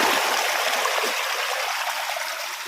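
Water rushes steadily out of a freshly unclogged fish pond drain after roots and stones were pulled from it, a continuous close, loud flow with no pauses or other sounds.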